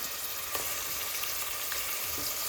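Chicken sautéing in a pan with ginger and garlic, a dense, continuous hiss of frying oil that stays loud and even, with a couple of soft stirring knocks and no voices.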